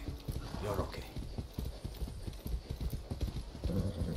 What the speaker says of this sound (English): Wait, this horse is fast.